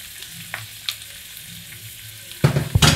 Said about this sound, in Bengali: এবার হালকা একটু ভেজে নেব। হালকা ভেজে নিয়েছি